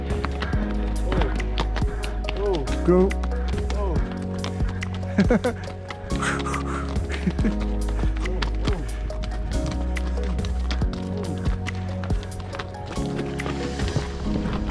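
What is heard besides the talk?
horses walking on mountain trail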